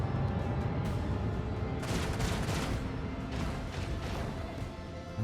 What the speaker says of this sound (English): Shoot the torpedoes slightly.